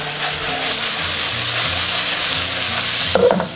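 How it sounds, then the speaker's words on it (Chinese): Black tiger prawns sear in a hot pan with a loud, continuous sizzle, and a brief burst of utensil clatter near the end. "再把这一面给它煎至变色就可以了。"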